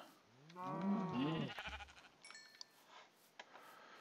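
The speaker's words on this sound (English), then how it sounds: "Oh, loads of sheep." A single Minecraft sheep bleats clearly up close, a wavering cry, followed by a few soft clicks and quiet ambience.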